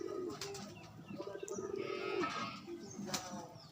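Rajshahi Giribaz pigeons give low, rolling coos over steady outdoor background noise, with brief sharp noises around them and no talking.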